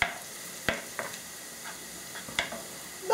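Garlic frying in a pan, a soft continuous sizzle punctuated by a few sharp utensil taps and scrapes, close and fairly quiet, with no talking.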